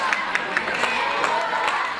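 A wrestling crowd cheers for Pandora in a steady roar, with claps and shouts popping through, while a commentator talks over it.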